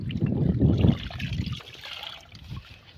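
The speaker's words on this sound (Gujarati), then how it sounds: "એમાં હવે આપણે પાણી નાખી." Water is poured into a mix of kerosene and chlorpyrifos pesticide, giving a gurgling, splashing rush that is strongest in the first second and then settles into a fainter, steadier trickle.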